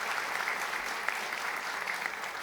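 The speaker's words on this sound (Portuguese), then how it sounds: "E uma salva de palmas ao presidente da nossa mesa." A seated audience at a ceremony bursts into steady, dense applause that holds at an even level for the whole stretch, slightly distant.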